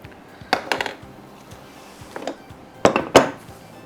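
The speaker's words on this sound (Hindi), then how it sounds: "तो एक चम्मच ले लेते हैं, उससे प्रेस डाउन कर देते हैं" A spoon clinks and taps against a dish while pressing down a biscuit crumb pie base for a coconut caramel pie, giving scattered sharp knocks and scrapes, two louder clusters near the end.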